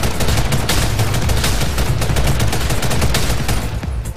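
An M4 rifle in a first-person shooter game firing in rapid tapped volleys, a loud, dense run of close gunshots that continues with no break before easing off at the very end.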